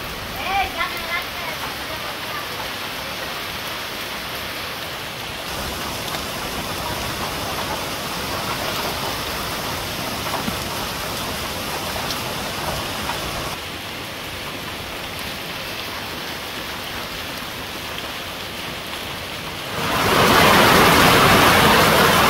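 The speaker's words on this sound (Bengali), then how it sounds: "এই যে বৃষ্টি এসে পড়ছে" Rain falls on a Bangladeshi village in a constant, dense hiss under a speaking voice, and the downpour swells noticeably louder near the end.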